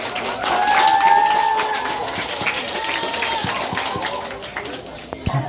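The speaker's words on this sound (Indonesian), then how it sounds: "beri tepuk tangan dulu buat teman-teman" A school audience at a student readathon claps for team members, the applause swelling early and then thinning into scattered claps, with voices talking over it throughout.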